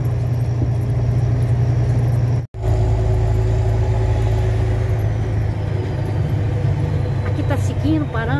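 Busy city street traffic at night in Brasília, with a steady rumble of cars and buses moving and idling close by, continuous apart from a brief dropout, and a voice talking over it.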